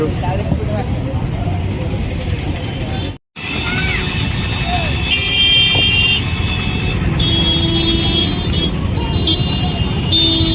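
A road traffic jam in Bhubaneswar: a continuous wash of engine and road noise, with car horns tooting repeatedly and voices mixed in.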